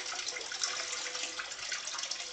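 Water runs steadily through an L-shaped indoor garden pool tank in a conservatory, a continuous soft splashing trickle, fairly faint and close, with no voices.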